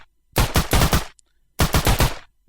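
Two short automatic bursts from a gun in a Unity game animation demo, each a quick run of loud, sharp shots separated by a brief silence.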